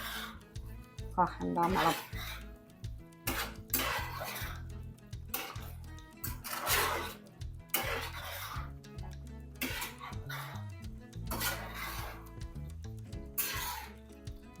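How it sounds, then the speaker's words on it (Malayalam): Drumstick curry ingredients mixed in a metal pot, with a spoon clinking and scraping in uneven bursts while someone talks over it. "ഇതെല്ലാം കൂടെ നല്ലതുപോലെ ഒന്ന് മിക്സ് ചെയ്യാം"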